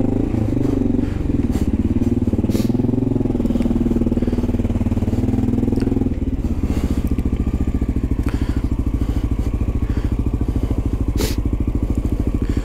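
A Honda XR650L motorcycle on a New York City street jumps a curb, its engine loud and close, idling roughly before a thump and clatter, then a steady pulsing thrum.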